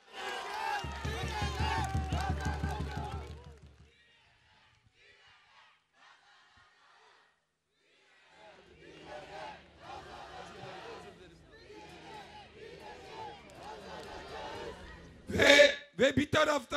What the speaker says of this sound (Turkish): Kuvvetli bir alkış alalım.